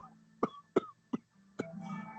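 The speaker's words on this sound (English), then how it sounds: "Quite a cough you got there." A man coughs four times in quick, harsh bursts, close and fairly quiet, ending in a raspy exhale.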